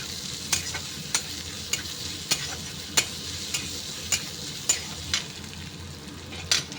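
Chopped ginger and garlic fry with onions in hot oil, a continuous close sizzle broken by regular sharp scrapes of a spoon stirring the pan about once every half second.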